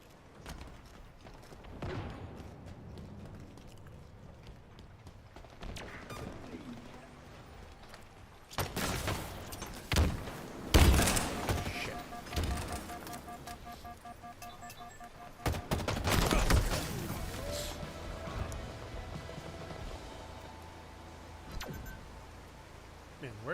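Video game gunfire rattles out in several loud bursts of rapid shots, separated by quieter stretches, with voices talking faintly underneath.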